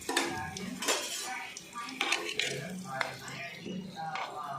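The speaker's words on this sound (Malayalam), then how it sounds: "ഒരു 10 മിനിറ്റ് ആയിട്ട് നമുക്കിതൊന്ന് കോരിയെടുക്കാം കേട്ടോ" A ladle lifts fried gooseberries out of hot oil with a run of metallic clinks and scrapes against the pan, while a voice talks quietly underneath.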